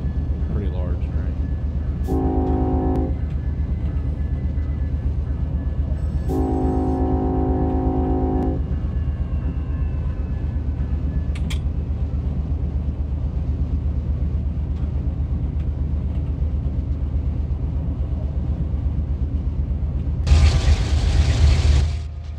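Low, steady rumble of a large train in a video game, running continuously underneath with a few tonal mechanical bursts and a louder noisy swell near the end; no one talks.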